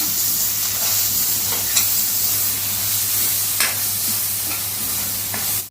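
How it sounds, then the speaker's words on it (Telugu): Egg masala curry stirred in a pan just after chilli powder goes in: a loud, continuous sizzle fills the whole stretch, broken by occasional soft spatula scrapes, with no voices. "ఇప్పుడు మనం కలుపుకుందాం"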